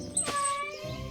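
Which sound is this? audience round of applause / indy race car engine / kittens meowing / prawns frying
kittens meowing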